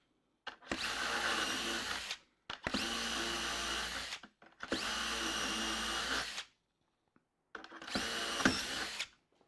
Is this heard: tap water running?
no